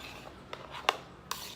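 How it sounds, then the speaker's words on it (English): A vegan ceviche is stirred in a bowl, giving a few soft scraping clinks of a utensil against the dish, quiet and close with short gaps between strokes. "I'm going to give this a stir."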